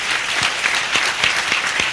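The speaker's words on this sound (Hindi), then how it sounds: "भले बजाइए यीशु मसीह के लिए ताली।" A church congregation at a Sunday service clapping together, a dense, steady wash of applause with a few louder claps standing out.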